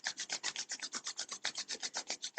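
Two palms rub briskly together, giving a rhythmic series of about twenty quick, close rasping swishes with no talk.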